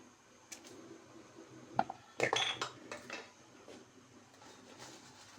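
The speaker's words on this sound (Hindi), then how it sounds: "तो अब मैं डालती हूँ सेवियाँ" Dry vermicelli tipped into a pot of boiling water while making milk seviyan, giving a short scatter of clatters and metallic clinks over a quiet kitchen background, with no talking.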